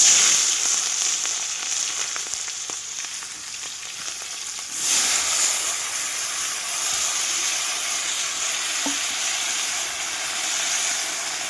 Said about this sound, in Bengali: আর এর মধ্যে দেবো পেঁয়াজ কুচি।